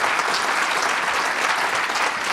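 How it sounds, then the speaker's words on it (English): Audience applause at an annual research fund award ceremony, a dense, steady wash of clapping from a large crowd that holds at an even, fairly loud level throughout. "Ulrike, please give her a huge round of applause"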